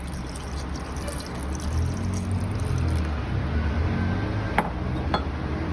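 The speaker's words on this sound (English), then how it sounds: "Add water." Water pours into a saucepan of washed, trimmed asparagus with a steady, close rushing splash and a few faint clinks of the pan, and no one speaks.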